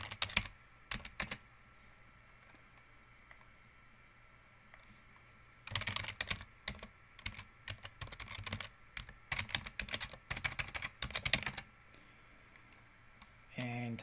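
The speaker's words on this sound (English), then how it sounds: "And type in your keyword phrase." Keystrokes on a computer keyboard as a keyword phrase is entered into a web search, with bursts of rapid clicking typing separated by pauses, close and fairly quiet.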